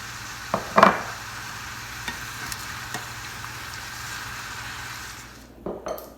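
Tomatoes cooking in a pan for succotash give a steady low sizzle throughout, with a couple of brief stir or utensil clicks near the start and again near the end.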